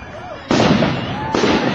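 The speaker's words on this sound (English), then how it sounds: "And these are our awesome fireworks." A town fireworks show in Bonners Ferry, Idaho, sends out two loud, booming bursts less than a second apart, each followed by a crackling rumble, while a person talks nearby.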